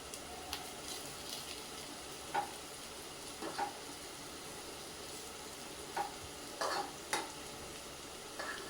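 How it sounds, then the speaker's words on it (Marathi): Aluvadi, rolls of colocasia leaves, fry slowly on a low flame in a covered pan, making a soft, constant sizzle with a few sharp clicks and light stirring scrapes. "हे बघा मस्त फ्राय होत आहे अळूवडी आपली"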